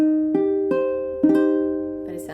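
A minor chord plays as an ear-training example, several notes struck one after another and sustained together, ringing clear and close with no voice.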